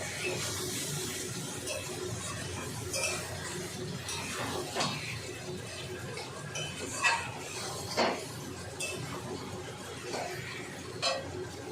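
A utensil stirs and scrapes rohu fish oil chorchori as it sautés in a pan, with scattered metallic clinks and knocks against the pan over a low, steady frying hiss.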